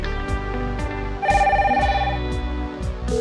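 A telephone rings before a call is answered, repeated trilling bell tones over a warbling electronic ringtone pattern, loud and close, with no talk over it.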